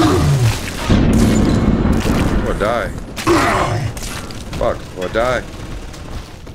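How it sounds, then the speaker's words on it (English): Heavy .50 cal gun fire in BioShock 2 Remastered, booming and mechanical bursts loud and close amid a dense game mix, with someone talking over it at points. "This 50 cal gun sucks ass."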